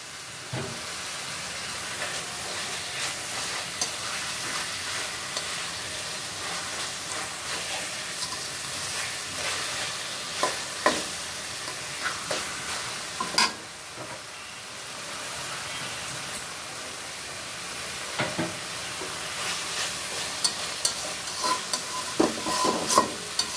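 Fried fish being stirred into a cooked-down spice paste with salt in a pan, a steady close sizzle running throughout with occasional scraping clicks of the spoon, and no voices.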